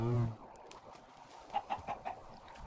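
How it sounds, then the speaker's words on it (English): Chickens clucking on a farm in Minecraft (FTB Running Red modpack), a short series of four moderately loud clucks near the middle and end over a faint background, preceded by a brief low sound at the start. "We got lots of chickens. We got eggs."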